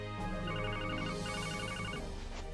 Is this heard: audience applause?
no